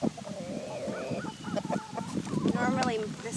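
Chickens and a rooster cluck and squawk excitedly up close while being handed treats in a summer garden, a voice speaking over the busy, overlapping bird calls.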